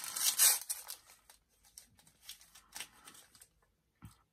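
Packing tape ripped off a parcel during unwrapping, with loud crackling tears at the start, then softer intermittent peeling and rustling, and a short thump near the end.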